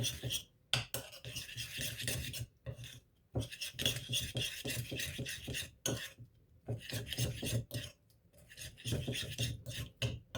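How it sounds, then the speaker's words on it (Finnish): Root vegetables being stirred with honey and oil in a bowl, giving close, repeated scraping and rubbing strokes in uneven bursts separated by short pauses, with no talk. "Sitten nämä sekoitetaan."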